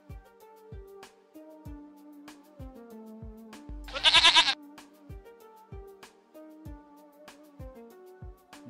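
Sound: goat bleating

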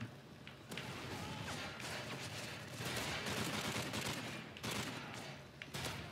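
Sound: shotgun fire in Call of Duty wave mode video game

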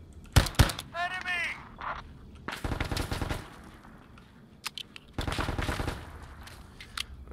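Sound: gunfire from enemy in the ARMA 3 video game

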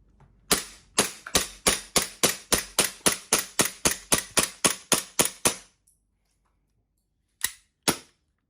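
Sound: Glock 17 Combat Master gas blowback BB pistol firing

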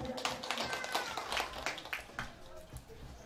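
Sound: guests applauding at a Vietnamese wedding ceremony

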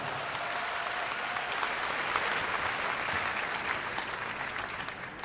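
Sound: audience applause for Miss Korea winners

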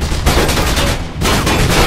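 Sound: gunfire hitting an elevator in video game Mirror's Edge

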